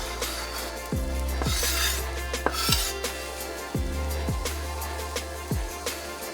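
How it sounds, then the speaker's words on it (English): A spoon stirs cooked vegetables and herbs in a pan on a switched-off stove, about five separate scraping strokes with light metallic clinks, fairly quiet and close. "turn the heat off, give them a stir"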